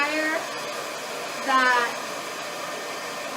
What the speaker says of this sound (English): And I do think it's important to have a blow dryer